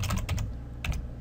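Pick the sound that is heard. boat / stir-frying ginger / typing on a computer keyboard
typing on a computer keyboard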